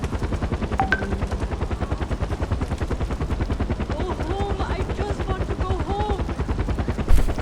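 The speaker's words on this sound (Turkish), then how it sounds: "Vah helikopter geliyor." Helicopter in the video game Far Cry 4, a steady rapid rotor chop running throughout at close range, with gunfire-like thumps, a few game tones and a louder burst near the end.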